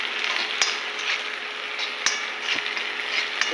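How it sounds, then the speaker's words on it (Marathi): Green chillies fry in hot oil with a steady, close sizzle, broken by a few sharp clicks of a utensil stirring the pan. "मिरच्या पण गेल्या आता तेलामध्ये पोहायला"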